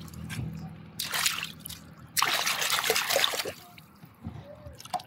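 Water trickling and splashing into a muddy mixture of sand, stones and marsh during an outdoor waterproof test of a Ulefone Armor15 phone, heard in close irregular bursts of pouring and sloshing.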